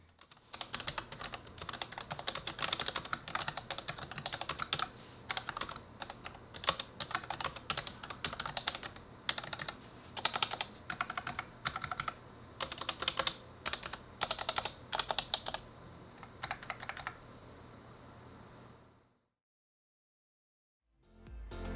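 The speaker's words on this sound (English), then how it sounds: "let's take a listen to how they sound" Typing on a Corsair K60 RGB Pro mechanical keyboard with Cherry MX switches, a steady run of close, clear clacking keystrokes in quick bursts with short pauses, stopping into silence near the end.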